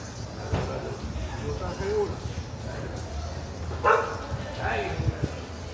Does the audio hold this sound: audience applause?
no